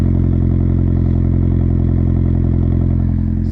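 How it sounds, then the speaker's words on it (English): A Mazda Miata engine, on a crashed car, runs at a steady, loud, close idle with a rhythmic low throb and slight clatter, with no clear rev rise, and no talk over it. "I guess I'll give it a rev or two"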